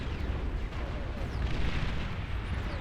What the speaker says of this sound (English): things that can chain explode just like that